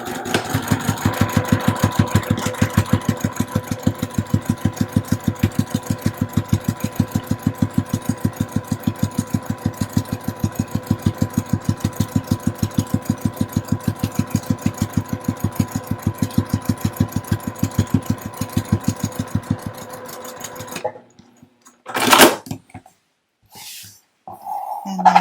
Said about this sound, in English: I'm going to stitch right across that bottom edge.